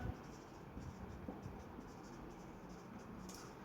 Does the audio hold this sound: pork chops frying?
no